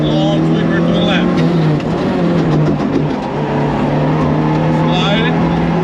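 Rally car engine droning loud and steady on a track as it slides through turns, with brief throttle changes and a voice calling pace notes over the noise.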